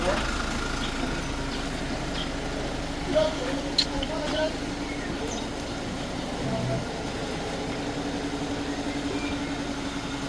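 A Kia J3 3.0 intercooler turbo diesel engine with a timing belt idles in a workshop, a steady low hum running beneath people talking.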